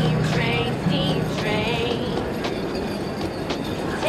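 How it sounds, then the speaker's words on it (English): A train rolls past with rumbling wheels, rhythmic clatter and occasional metallic squeals, loud and continuous throughout. "when I saw the train pass by"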